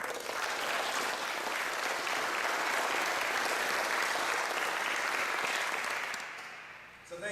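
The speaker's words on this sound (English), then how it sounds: "So I'd like to give a round of applause" Sustained applause from a grand-opening crowd at Comfort Research, a dense steady wash of many hands clapping that carries on for several seconds before fading near the end.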